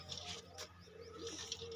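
Hazar-breed pigeons coo softly at close range, a few low murmuring calls over faint background water and bird chatter.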